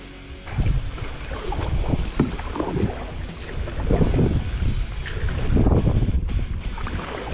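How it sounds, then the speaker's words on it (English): Steady wind buffets the microphone while kayaking into a light headwind on the water, a continuous rushing roar with gusty swells and no talking. "Of course, now I'm hitting another headwind."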